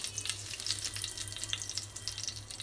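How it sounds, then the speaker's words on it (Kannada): Spices and a bay leaf sizzle steadily in hot oil for egg biryani, a dense crackling fry with fine popping, close and continuous, with no voices. "ಪಲಾವ್ ಎಲೆ ಹಾಕಿ ಸ್ವಲ್ಪ ಫ್ರೈ ಮಾಡ್ಕೋಬೇಕು."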